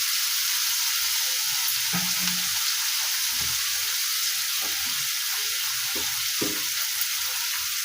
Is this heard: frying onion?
yes